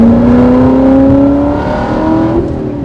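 A Corvette C7 ZR1 with an Akrapovic titanium exhaust revving loudly and steadily with a deep, rising exhaust note, heard up close and sustained, easing slightly toward the end.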